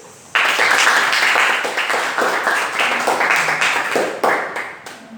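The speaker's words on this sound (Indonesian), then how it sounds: "tepuk tangan dulu" Students in a middle-school history class clap their hands together, a sudden burst of loud, close applause that stays dense for several seconds and then breaks into a few scattered claps.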